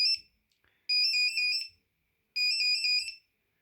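An Alcatel BC2 mobile phone ringtone plays nearby in two loud, bright electronic bursts of rapidly warbling tones separated by silence.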